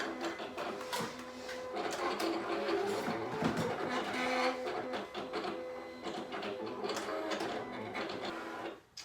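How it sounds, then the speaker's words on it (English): A Silhouette cutting machine cuts a design, its motor whirring and chattering steadily with rhythmic back-and-forth carriage movements, close and continuous, and no voice over it. "And then it's gonna go ahead and start cutting our design."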